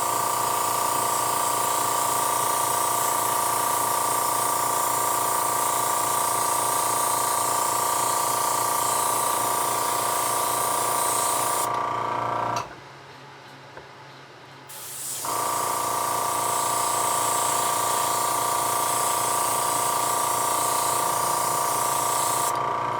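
Airbrush or spray gun misting a blending coat of paint onto a space shuttle Discovery model, a loud continuous hiss that cuts off for about three seconds midway, then resumes steadily.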